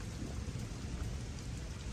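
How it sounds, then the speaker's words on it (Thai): Heavy rain pouring down steadily outdoors, a dense, even hiss with low rumbling beneath, constant and fairly loud with no voices. "ฝนมันตกหนักว่ะ"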